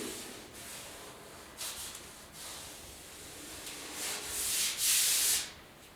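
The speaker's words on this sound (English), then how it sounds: "If you have to do a little bit of hand sanding and stuff like that" Hand sanding on the cab bodywork of a 1972 Ford F100 4x4 truck: repeated rough, hissy rubbing strokes that grow louder and more vigorous toward the end, close by with no talking.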